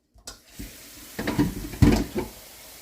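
Water runs from a kitchen tap in short, uneven bursts, splashing and gurgling as food is rinsed beneath the stream.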